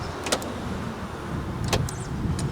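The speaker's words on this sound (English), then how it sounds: "door locks work perfect again." Two quick mechanical clunks of repaired car power door lock actuators, one early and one later, each a short thump against a noisy background.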